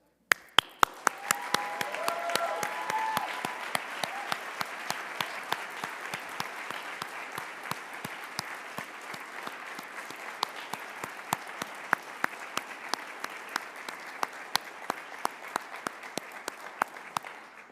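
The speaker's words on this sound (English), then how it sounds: "a resounding round of applause for all of our recipients here and not here with us" A large audience at a service recognition awards ceremony gives a long, sustained round of applause for honorees, steady dense clapping with sharp individual claps standing out near the microphone throughout.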